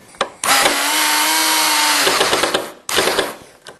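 A power drill backing screws out of a miniature Willys CJ2A jeep body, with a loud, close high-pitched whir lasting about a second and a half, a brief pause, then a second shorter burst.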